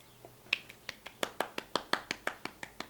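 Hand clapping in a regular rhythm, about a dozen sharp, close claps evenly spaced with nothing else behind them.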